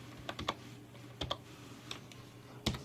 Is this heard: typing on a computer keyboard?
yes